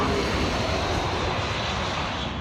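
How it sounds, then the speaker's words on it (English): A business jet touches down on runway 34 at Corfu Airport, its loud, continuous engine roar washing over the field and easing slightly toward the end. "Fantastic touchdown there by the business jet pilot."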